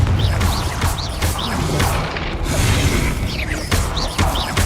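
Confringo blasting spell in the video game Hogwarts Legacy, a series of loud crashing explosive impacts with sharp bursts and debris-like clatter repeating over several seconds.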